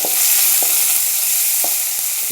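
Vegetables sizzling in a hot pan after a tempering of mustard seeds and curry leaves: a loud, constant frying hiss close by, broken by a few sharp spoon knocks against the pan, with no talking.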